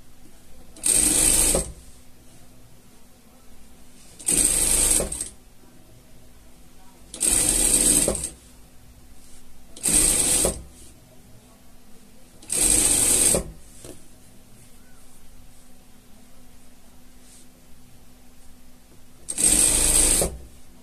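A sewing machine stitches the seams of a pet poncho in six short, loud bursts of rapid mechanical whirring, each separated by a few seconds of quiet.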